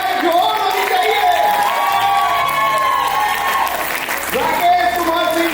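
At a Lucknow awards night, an audience claps steadily, mixed with cheering, whoops and shouts. The crowd noise holds throughout, with voices rising above it near the end.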